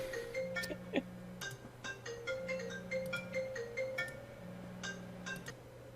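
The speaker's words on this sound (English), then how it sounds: "ringing phone" A phone rings with a repeating electronic ringtone in short melodic bursts. The tones are fairly quiet indoors, with faint clinks and low room noise around them.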